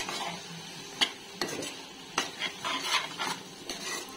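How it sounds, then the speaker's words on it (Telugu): Chilli powder fries in a pan for an eggplant and dried prawn curry, a low sizzle under repeated scraping stirs and occasional metallic clinks of the spatula. "ఈ విధంగా కారం అంతా కొంచెం ఫ్రై అవ్వాలి."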